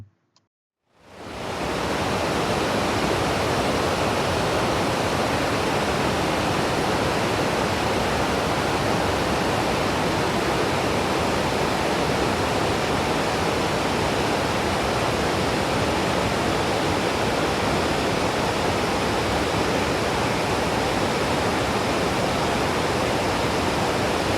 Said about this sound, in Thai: นั่นมันเป็นน้ำตกธรรมชาติครับ